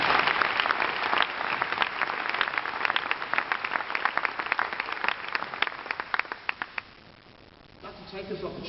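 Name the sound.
applause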